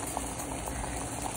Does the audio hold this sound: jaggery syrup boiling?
yes